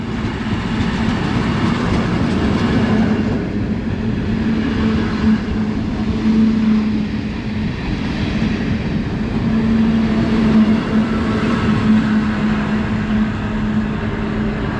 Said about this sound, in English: We've got a Class 73 coming through with a 4 VEP.